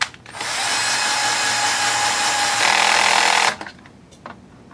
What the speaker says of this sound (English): we're going to use the two screws to hold those in